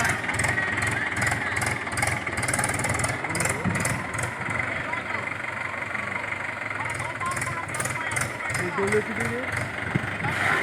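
A tractor engine idles beside a lorry during sweet corn loading, with a rhythmic, pulsing chug close by, while people talk over the steady mechanical throb.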